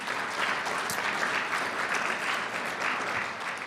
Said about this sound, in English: Round of applause for the team.